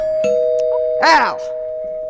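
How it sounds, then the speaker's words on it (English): A doorbell rings with a single clear two-tone ding-dong chime, loud and close, after a voice calls out briefly over a steady hum. "Well, that's the doorbell, dear, not the telephone."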